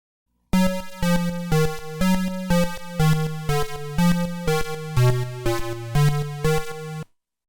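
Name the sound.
TI BASIC tones: bass note, detuned tone and third harmonic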